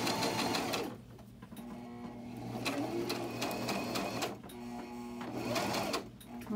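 A sewing machine stitches an envelope-style cushion cover, its motor whirring in steady bursts with short pauses between runs.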